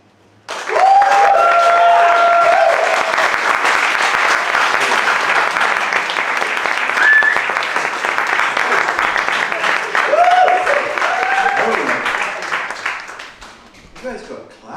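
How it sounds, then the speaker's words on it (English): An audience at a poetry slam bursts into loud, sustained clapping and cheering after a poem, with whoops and voices rising through it before it fades out near the end. "You guys got clap happy during that break."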